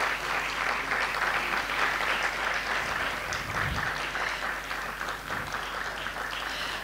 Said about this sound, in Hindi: एक बार ही जोरदार तालियां हो जाए